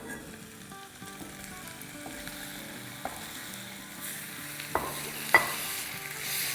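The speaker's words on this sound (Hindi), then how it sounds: "अब प्याज़ों को और कीमे को अच्छे से मिला लेंगे। फ्लेम हमारी मीडियम हाई है।" Chicken thigh mince and onions stir-fried in a pan over a medium-high flame give a steady close sizzle, broken by scraping stirs and a few sharper clacks of the utensil toward the end.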